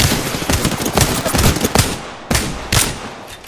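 Gunfire from the Apex Legends video game: rapid bursts of automatic shots, loud and close, in several volleys with short gaps between them.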